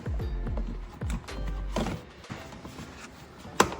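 Plastic shift boot trim in a Mazda NC Miata being pressed and snapped into place during a short shifter install, close creaks and rubbing thuds ending in a sharp click.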